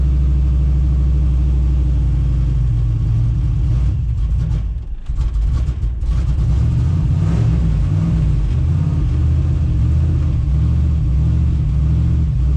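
Turbocharged LS V8 in a C10 pickup, rough cold-start idle with a steady low rumble throughout, briefly dipping mid-way before settling back to an uneven drone.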